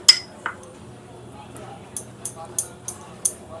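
A knife with oil cutting dough into pieces for homemade jive goja, a series of sharp clinking taps of the blade against a board or plate, spaced apart, near and clear over a quiet room.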